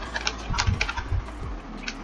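A few light, irregular keystrokes tapped on a computer keyboard, close and fairly quiet, with no speech.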